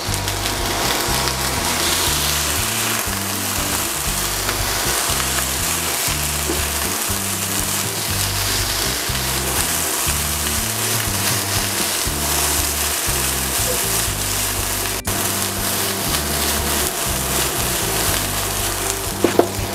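Continuous sizzling of basil pork fried rice being stir-fried in a pan, with rhythmic scraping and tossing of a spatula repeating steadily throughout, no talking.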